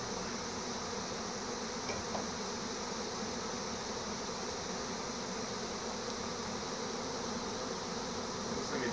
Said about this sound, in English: A decent sized swarm.